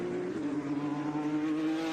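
Trans Am race cars run wheel to wheel at Sebring, a loud, steady engine drone with a rising high whine as they pass close by, with no voices.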